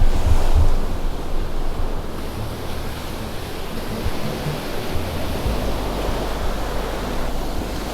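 Ocean waves on one of Europe's widest beaches in Portugal: a continuous, full roar of surf mixed with gusting wind rumbling against the microphone, steady and fairly loud for eight seconds.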